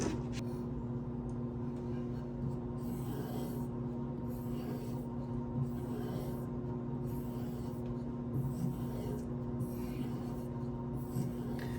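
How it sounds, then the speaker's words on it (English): Knife blade stroked repeatedly on a DLT XL leather strop loaded with white compound, giving soft, steady rubbing and rasping strokes close up, with no talking. "For stropping, I'm going to use my DLT XL, only white compound."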